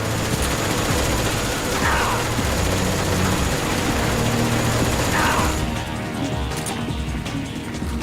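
Dense gunfire rattles in Metal Gear Solid 3, a sustained loud barrage of rapid shots with engine-like rumble underneath, thinning out near the end.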